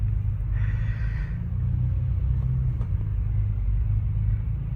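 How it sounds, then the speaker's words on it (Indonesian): Two double-decker buses, including an MTrans Volvo B11R, roll past in convoy on the road with a heavy, steady low engine rumble and a brief lighter whoosh as they pass. "Asik nih, konvoy 2 bus tinggi."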